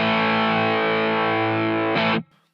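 A guitar through the Headrush DC Distort effect holds a loud, thick distorted chord for about two seconds, with a brief restrike near the end before it stops abruptly.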